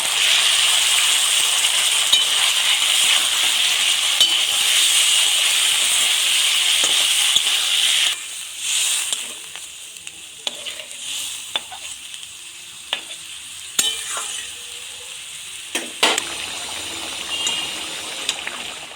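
Broccoli is added to hot oil and spice paste in a pan, giving a loud continuous sizzle, then it quiets into softer frying with intermittent stirring clatters and spatula knocks.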